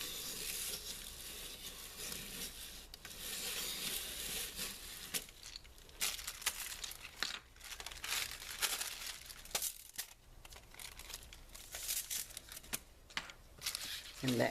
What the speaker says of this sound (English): This little piece here can be cut off with the scissors